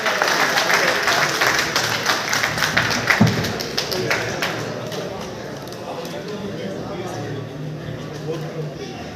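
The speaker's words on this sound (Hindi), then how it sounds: "जोरदार तालियों से उनका स्वागत करें।" Crowd applause at an Uttar Pradesh political rally welcoming a guest, strongest early then fading into lighter scattered claps, with someone speaking over it.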